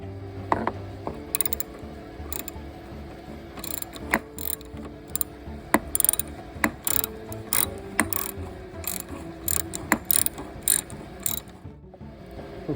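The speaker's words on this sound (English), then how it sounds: "I need to unbolt that last fixing there, which I believe is going to be a 10mm socket." A hand ratchet with a 10mm socket unbolts a fixing on a first-generation BMW Mini Cooper R50, giving repeated bursts of sharp clicking strokes with short pauses between them, close and clear.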